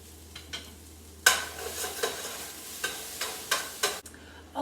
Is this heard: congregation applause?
no